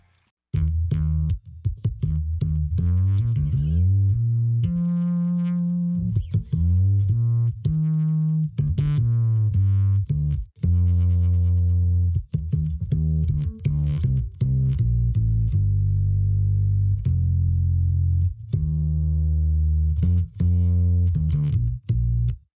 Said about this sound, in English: This is played on a fretless bass